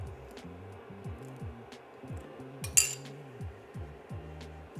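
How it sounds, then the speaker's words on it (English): A spoon repeatedly clinks against a pot while coagulant is stirred into hot soy milk for homemade tofu, a steady quick rhythm of light metallic taps and scraping, close and moderately loud. "We stir in about a quarter of our mixture and we mix."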